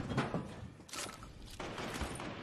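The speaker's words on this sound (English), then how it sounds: "Oh, I hear shooting." Bursts of gunfire in a Fortnite match, sounding faint and distant, with a few quick shots early on and sharper noisy cracks around the middle, all set against low background game ambience.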